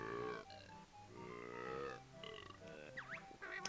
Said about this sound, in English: And I don't know why he burps to talk